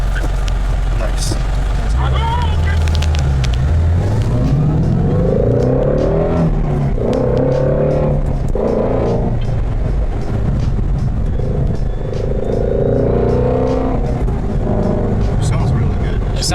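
A sports car engine, one of a Supra, AMG CLK63 Black Series, Shelby GT350, Viper ACR or Civic, revs and accelerates through rising gear pulls on a test drive, loud and close under near-continuous conversation inside the cabin.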